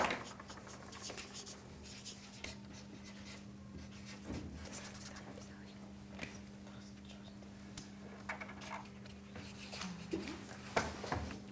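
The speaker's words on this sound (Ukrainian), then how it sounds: "Можете писати, хтось може малювати, кому як зручно" Pupils writing and drawing on paper cards in a classroom, faint scratching and tapping strokes scattered irregularly over a low steady hum, with occasional soft knocks.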